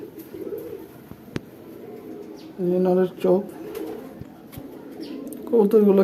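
Paired pet pigeons cooing nearby, a few soft throaty bursts with a person talking in between.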